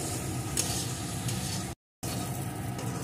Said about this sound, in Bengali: এখন সমস্ত কিছুকে সুন্দর করে বেশ কিছুক্ষণ ধরে এভাবে নাড়িয়ে নাড়িয়ে ভেজে নেব।